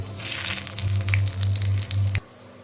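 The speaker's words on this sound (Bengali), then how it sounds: "তেলটা গরম হয়ে গিয়েছে তাই এখন আমি এর মধ্যে দিয়ে দিচ্ছি ফোড়ন" A dried chilli, a bay leaf and whole cumin crackle and sizzle loudly in hot oil for a Bengali aloo soyabean curry, a dense close frying hiss that cuts off abruptly near the end, with no talking.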